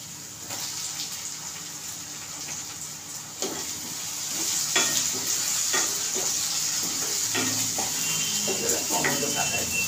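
Onions browning in oil for a spicy dry matki (moth bean) bhaji, a soft steady sizzle with intermittent spatula scrapes and clicks, growing a little louder midway, moderately quiet and close.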